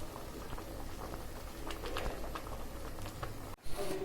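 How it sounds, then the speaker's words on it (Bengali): Masoor dal with chopped bottle gourd greens bubbles and simmers in a pot with a steady, soft boiling patter, then a sharp break near the end gives way to a brief clatter. "এবার আমি মসুর ডালে কেটে রাখা শাকগুলো দিয়ে দিছি"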